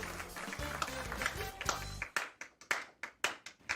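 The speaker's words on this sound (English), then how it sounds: "Very loud clap." Sharp, loud hand claps ring out in a quick irregular series of about six, close to the mic, following a stretch of busy background chatter and sound during a watch party.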